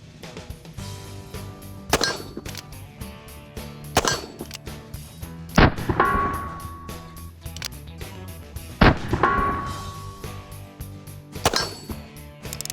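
Loud, sharp gunshots from an Old West cowboy gun are fired outdoors in the Black Hills, several evenly spaced reports with ringing decay, some followed by a metallic clang, and no talk.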